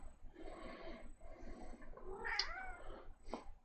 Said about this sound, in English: Problem two is little black cat.